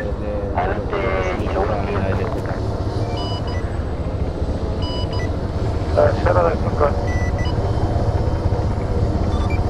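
Helicopter rotor and engine in ArmA 3, a steady low rumble throughout, heard under Spanish voices talking over radio in a cooperative night mission.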